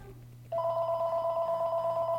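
A telephone rings indoors during a guitar lesson on E, A and B7 chords. After half a second of quiet room tone, a steady, fairly loud electronic ring sounds alone and holds to the end.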